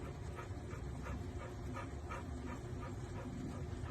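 A dog whimpers and yips repeatedly in short, evenly spaced cries under a steady wash of rain, with no one speaking.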